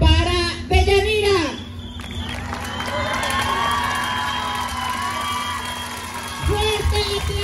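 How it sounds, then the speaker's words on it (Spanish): A crowd cheers and shouts for a princess at a queen election in Valparaíso, Zacatecas, with whoops, children's shouts and light clapping, while a voice speaks over a sustained tone at the start and end. "Un aplauso para Deyanira."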